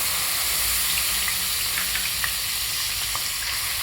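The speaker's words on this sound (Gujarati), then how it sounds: "તેલ થોડું ગરમ થાય એટલે એક પીંચ હિંગ નાખી અને આદું મરચાં અને કાંદાની ગ્રેવી નાખી દેવાની" A pinch of asafoetida and a ginger-chili-onion gravy sizzling in hot oil for palak paneer, a loud continuous hiss with faint occasional ticks and no talking.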